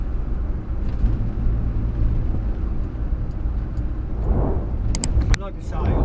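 A 1962 Morris Minor running while driving, a loud steady low engine rumble close inside the car, with a few brief sharp sounds near the end.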